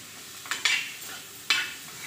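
Onion filling for pyaz kachori frying in a pan, a soft continuous sizzle broken by three quick stirring scrapes, close and alone.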